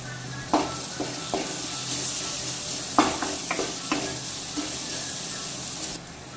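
A spoon stirs pasta sauce in a pan, giving a steady sizzle with scraping knocks and clatters against the pan at irregular intervals, close and fairly loud.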